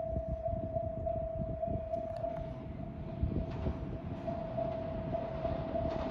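At Toyohashi station, a Meitetsu limited express train draws closer with a steady rumble of wheels over rails, while a sustained chime tone rings throughout, moderately loud and continuous.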